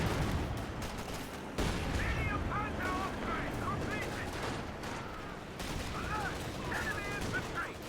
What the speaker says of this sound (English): As the 120 mil is bombarding the lines.